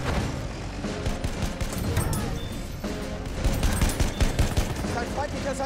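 Sustained rapid gunfire in the Battlefield 1 video game, overlapping bursts of automatic shots and heavy impacts, loud and close, continuing without a break.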